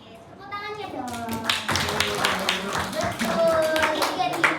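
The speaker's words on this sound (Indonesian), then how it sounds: "Oke, tepuk tangannya dong." Students at an anti-violence and anti-drug school seminar break into applause after someone speaks, clapping and tapping together loudly for several seconds while children's voices chatter and call out underneath.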